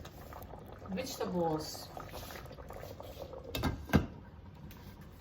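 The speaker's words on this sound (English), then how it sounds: "we need to let this boil now" Chicken afritada stew boiling in a pot makes a soft, steady bubbling and patter close by, heard under a person talking.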